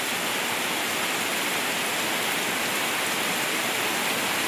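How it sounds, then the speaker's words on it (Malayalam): Heavy, intense rain pours down outdoors as a steady, dense broadband wash that holds level and close throughout, with no voices over it. "പുറത്ത് നല്ല മഴയാണ് വീഴുന്നത്."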